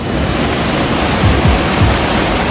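A flooded river on Réunion swollen by a cyclone, its extremely strong current producing a loud, steady broadband roar of rushing water, close and uninterrupted, with no voices.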